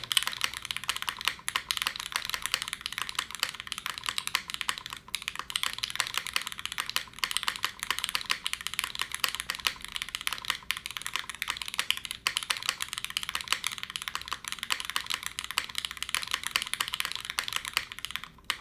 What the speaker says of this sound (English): these hippo switches are really bassy, but they do not sound bassy on this keyboard at all